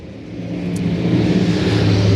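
Race cars in a Thunder Bomber feature accelerate hard through turn 4 at Laurens, the engine roar loud and steady and swelling as the field comes through.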